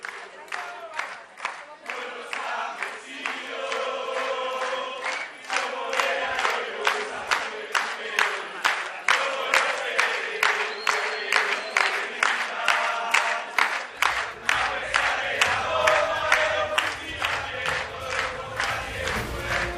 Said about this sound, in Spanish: Un fuerte aplauso para todas las juventudes, todos los compañeros que están hoy aquí y a todas las delegaciones internacionales.